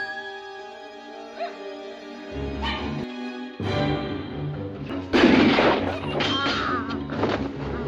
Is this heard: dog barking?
yes